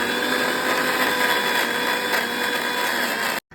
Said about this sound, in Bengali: শিলনোড়াতে বাটতে অনেকটা টাইম লেগে যায়, ওই জন্য মিক্সিতে পেস্ট করে নিয়েছি